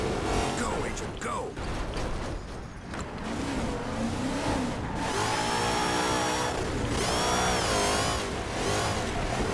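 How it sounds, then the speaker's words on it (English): A car engine revs and accelerates in the video game Crackdown, rising and falling in pitch through several surges. It stays loud against busy game sound and music, with a voice speaking over it. "I don't like the sound of the car"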